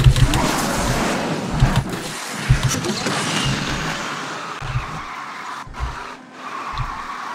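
Car engine in the Asphalt 9 racing game drifting as a Lamborghini SC20 chases an Aston Martin, a steady loud synthetic roar with engine surges pulsing every second or so, blended with game music and effects.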